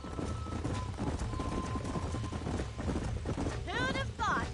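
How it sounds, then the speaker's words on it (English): Horses in the Red Dead Redemption video game, with rapid clip-clop hoofbeats running throughout and a whinny near the end, mixed with ambient game sound. "These are fine horses."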